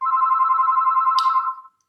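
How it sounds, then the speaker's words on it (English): A telephone rings with a steady electronic warble for about a second and a half, loud and close, then stops abruptly with a brief click. "We'll just let the phone ring."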